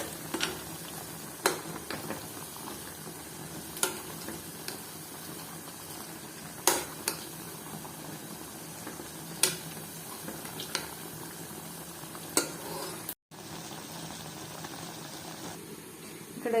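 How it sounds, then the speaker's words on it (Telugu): Mutton liver fries on a low flame in a pan, a soft, continuous sizzle punctuated by periodic clinks and scrapes of stirring. "లైట్గా మంట పెట్టుకొని ఫ్రై చేసుకోవాలి దాన్ని. ఇక్కడైతే లివర్ ఉడుకుతుంది"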